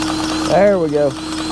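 A grease gun is pumped to push out the bar and tension the chain on a trencher. One short squealing mechanical stroke rises and falls in pitch over a steady engine hum.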